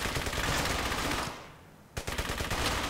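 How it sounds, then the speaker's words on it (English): Rapid gunfire in the World War II shooter Brothers in Arms: Hell's Highway, loud sustained bursts that drop away briefly into a quiet gap before a sharp shot restarts the barrage. "So we're just basically shooting at him until he dies."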